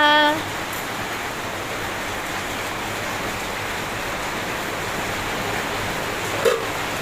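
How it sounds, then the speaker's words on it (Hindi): Steady, dense rain hiss fills the whole stretch, a constant broadband wash with no talk, briefly marked by a short tone at the start. "झमाझम बारिश के मजे लो"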